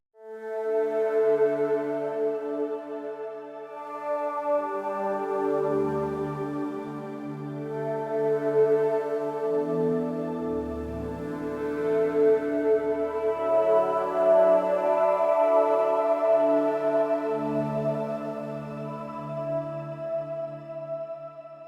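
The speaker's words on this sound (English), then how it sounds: "Pigments 5 to create an evolving ambient soundscape type pad that sounds like" Evolving ambient pad from Arturia Pigments 5 generative sequencing: soft, sustained synth tones layer and shift slowly in overlapping chords, a calm continuous wash at moderate level without any voices.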